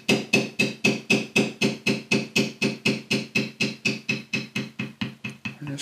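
A mallet strikes a leather beveling tool in a steady, even rhythm, about four blows a second, as a horse head design is figure carved into leather. The close, crisp taps run on alone without a pause.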